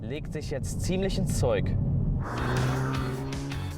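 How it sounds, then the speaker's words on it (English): A Hyundai i30 Fastback N's valve exhaust revs and roars, first with rising and falling engine pitch, then a sustained loud drone under someone talking. "the valve exhaust that comes standard on the performance model is really pushing it to the limit now"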